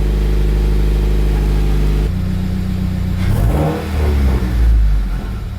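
Subaru WRX with a freshly installed Perrin header, engine idling with a deep steady drone, then a couple of revs that swell and fall back, loud and close with no talk.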